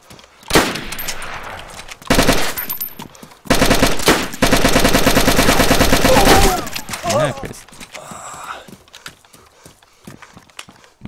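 Bursts of gunfire ring out in the DayZ survival game, loud clusters of rapid shots separated by pauses, with a voice speaking briefly between them.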